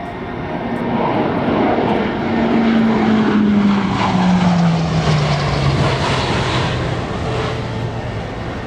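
A military jet roars loudly overhead at the NAS Oceana airshow in 2005, its engine tone sliding lower as it passes and fades, with a broad, steady rushing noise throughout.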